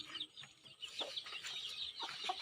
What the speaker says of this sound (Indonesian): Kita lihat ayam-ayam yang sudah ditetaskan.